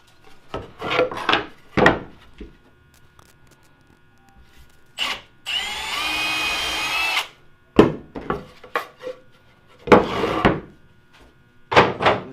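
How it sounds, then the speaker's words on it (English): A power drill with a 1/8 inch bit bores holes in wood, heard as several short, close whirring bursts and one longer steady run around the middle, separated by quiet gaps and small knocks. "So you want to take an 1/8 inch drill bit"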